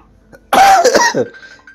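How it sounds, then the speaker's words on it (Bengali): A person coughing indoors: one close, loud burst of several rapid harsh coughs with a throaty rasp, then quiet. "কাশিও হয়ে গেছে আমার খুব"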